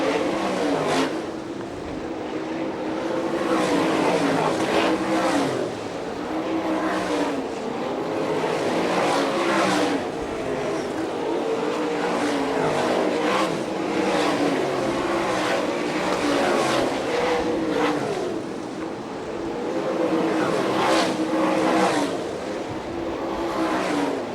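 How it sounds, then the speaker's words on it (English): Sprint race cars roaring around a dirt oval at an All Star Circuit of Champions event in Fremont, Ohio, with engine drones rising and falling steadily as cars pass, loud and continuous throughout. "Heavy lap traffic ahead for your leader as he comes out of turn 4"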